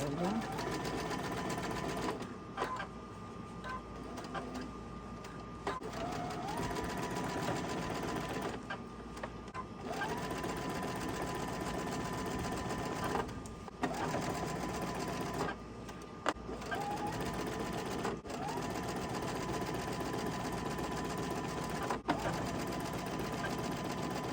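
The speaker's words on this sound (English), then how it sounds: "Now we're going to sew the ends." A sewing machine stitches across the ends of a quilted summer table runner, running in steady whirring bursts with brief pauses between passes, close and fairly loud, with a person talking over parts of it.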